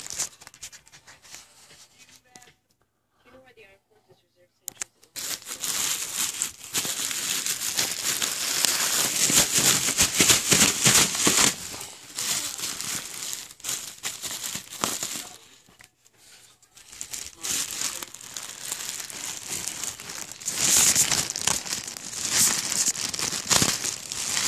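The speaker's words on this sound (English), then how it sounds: "Bear with me, I'm ripping it open." Plastic packaging around a plush 60x80 Raschel throw blanket is torn and crinkled open in long bursts of crackling and ripping, close and fairly loud, with brief quiet pauses between the tearing.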